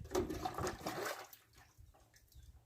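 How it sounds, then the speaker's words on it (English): Water gushes briefly into a paint sprayer container for about a second, then trails off into faint dripping and quiet. "I'm going to put some water in here."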